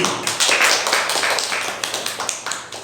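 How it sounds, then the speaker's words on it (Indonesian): Audience clapping at a school gathering for SMP Negeri 1 Rawasari, a dense burst of hand claps that slowly thins and fades, with a few sharper individual claps standing out near the end and no one talking. "Tepuk tangan kagum berdiri."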